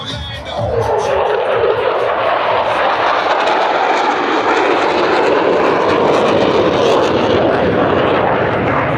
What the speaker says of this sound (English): From the right, at 378 miles per hour, the Blue Angel Echelon Parade.